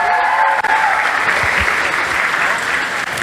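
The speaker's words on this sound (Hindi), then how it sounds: "एक बार पूरी टीम के लिए जोरदार तालियां" Loud, sustained audience applause at a graduating fashion show, dense clapping filling the room steadily from start to finish with no pause.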